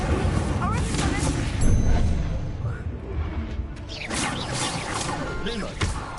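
Incendio fire spell cast in the Hogwarts Legacy video game, a loud fiery whooshing burst with crackling booms and blasts over a busy game soundscape, with a voice speaking over it.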